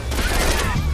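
Rapid automatic gunfire from a hacked-in weapon in the video game Saints Row IV, a dense continuous burst that stays loud and steady for about a second with no talk over it.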